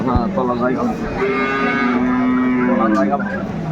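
Cows and calves at a cattle market in Aftabganj, Dinajpur, moo in several long, loud calls close by, over a busy crowd murmur.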